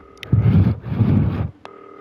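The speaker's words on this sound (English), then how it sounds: "That'll be the phone." An in-game telephone in the video game Not For Broadcast rings in two loud, close bursts with a short gap between them, followed by a brief tone, with no talk over it.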